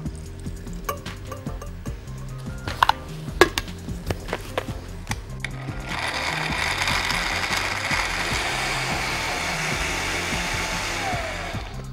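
Blender whirring through an avocado milkshake mixture of milk and cashews, a steady loud roar from about six seconds on, preceded by clicks and clatter of handling the jar.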